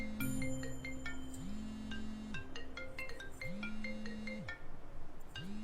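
A phone ringtone from a Pakistani TV drama plays a bright repeating melodic tune of short tones over steady background sound, continuing throughout.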